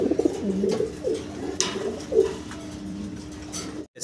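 Pigeons coo in low, rolling bursts at a bustling pigeon market, several calls overlapping close by with faint background chatter.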